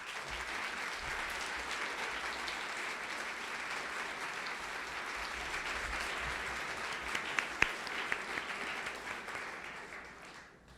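A large audience claps steadily and continuously for speakers at a HUD progress event, a dense, even wash of applause that fades near the end.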